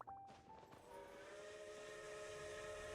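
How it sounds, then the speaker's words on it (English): A train in a video game sounds a steady, sustained horn tone over a faint rolling rumble, heard at a distance and fairly quiet. "I hear the train."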